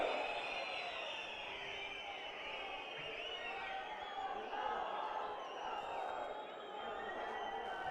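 A large outdoor crowd at a Congress political rally in Solan, Himachal Pradesh, keeps up a steady roar of cheering and clapping, with shouts and whistles rising through the distant din.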